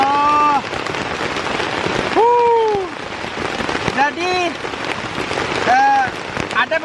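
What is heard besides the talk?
rain falling on a tent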